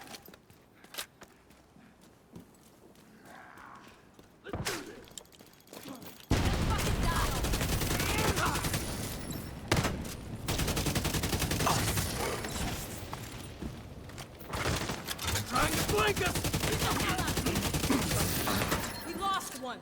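Video game gunfire while shooting down crates, with sustained rapid bursts that dominate the second half over mechanical clatter and footsteps. A voice talks now and then during the quieter opening.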